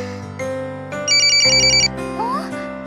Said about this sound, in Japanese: お、電話だ。